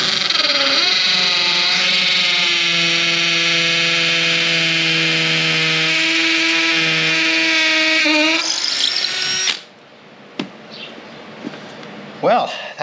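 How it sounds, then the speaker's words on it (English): A power drill with a masonry bit bores a pilot hole through wood, giving a steady high whine for about nine seconds before it stops, followed by faint clicks and handling noises. "Now we're gonna drill a pilot hole through the wood."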